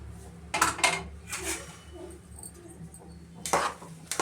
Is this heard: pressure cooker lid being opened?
yes